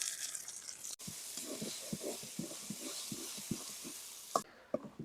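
Winter leafy greens fry in oil with chopped onion, garlic and pumpkin bori, a soft continuous sizzle broken by a regular run of low stirring thumps from a spatula.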